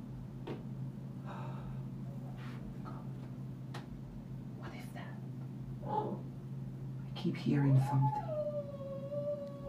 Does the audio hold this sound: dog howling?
yes